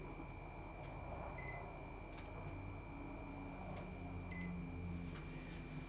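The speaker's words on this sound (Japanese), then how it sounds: "なんでタイマーなってる" A timer in a quiet bedroom at night sounds two short high electronic beeps a few seconds apart, faint over a steady hum of background noise.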